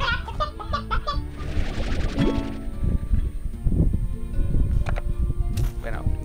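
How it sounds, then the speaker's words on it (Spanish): Rooster clucks and crows from the video game Slime Rancher ring out amid game sound effects and music, a dense busy mix with a voice talking over parts of it. "No sé para qué quiero el gallo mayor."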